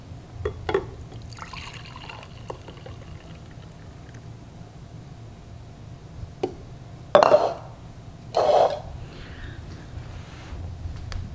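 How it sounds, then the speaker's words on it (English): Fresh-pressed juice from AMZChef and Dash cold press juicers poured into cups, heard as two short, close liquid pours late in the clip after quiet handling sounds. "I'm going to go ahead and pour them in."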